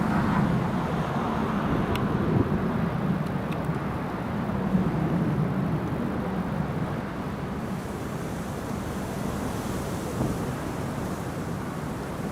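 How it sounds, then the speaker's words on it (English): An aircraft taking off at Newcastle Airport on a stormy day, heard as a broad, distant engine roar blended with heavy wind buffeting the microphone, steady throughout with no speech. "they're clear for takeoff"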